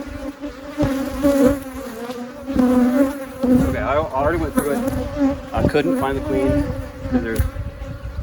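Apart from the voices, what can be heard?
honeybees buzzing around hive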